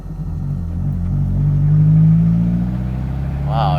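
A slammed Alfa Romeo Spider drives along with a steady mid-pitched engine drone that swells slightly and settles, a voice chiming in briefly near the end.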